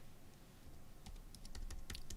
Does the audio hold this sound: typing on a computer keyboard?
yes